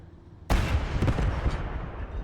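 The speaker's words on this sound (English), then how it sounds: "Let's try to fire HE on that AT position" Tank gun firing HE shells in Call to Arms, one sudden heavy boom followed by a long rumbling explosive roll with further crackling impacts, loud and close, no talking.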